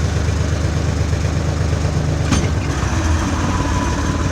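A tractor engine runs steadily while its hydraulics lift a heavy load onto a trailer, a loud, constant low rumble with a rhythmic throb, a brief sharp clank partway through and no talk.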